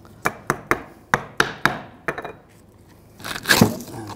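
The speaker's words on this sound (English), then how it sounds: "If you need to, just give it a little tap with a hammer." A hammer strikes a rusty rear shock absorber mount on a 2007-2013 BMW 328i, with about eight sharp, close metallic blows at an uneven pace, followed by a brief scraping clatter.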